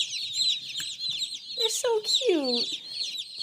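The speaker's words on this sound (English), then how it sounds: "And then Dad walked in with a bunch of chicks" Baby chicks chirp with rising and falling peeps amid a dense, continuous chorus of high chirping from a group of birds, close by and steady, with a few louder calls standing out partway through and a voice speaking briefly.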